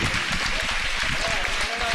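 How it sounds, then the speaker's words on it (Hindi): Audience clapping at a Jain pichhika parivartan ceremony, a dense, steady wash of applause filling the hall throughout, with voices mixed underneath. "तालियां आपकी रुकनी नहीं चाहिए।"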